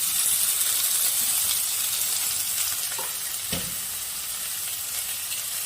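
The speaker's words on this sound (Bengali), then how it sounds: "পেঁয়াজ কুচিগুলো দিয়ে আমি আরেকটু হালকা ভেজে নিব" Chopped onions and tomatoes fry in oil in a pan with a steady, loud sizzle and hiss, close up, broken by a couple of brief stirring knocks and scrapes; no one talks.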